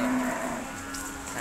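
Cattle low loudly at a busy livestock market in Gunungkidul, a sustained drawn-out moo close by over steady crowd and market noise.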